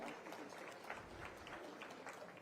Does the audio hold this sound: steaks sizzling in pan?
no